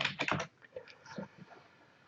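Fingers tap on a Mac computer keyboard in a quick burst of clicks followed by a few sparser keystrokes, close but fairly quiet and with no talking.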